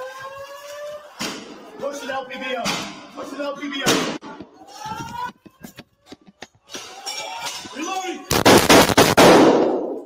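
Sharp gunshots crack out during the Nashville shooting, scattered among people talking, ending in a loud, rapid burst of shots fired close together.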